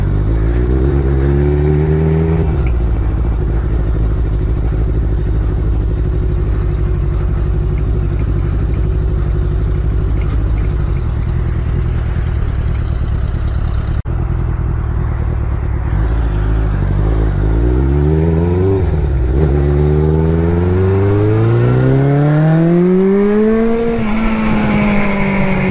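An old Kawasaki GPz550 motorcycle engine runs close by, idling roughly and then revving in repeated rising and falling sweeps, loud and continuous with no talk.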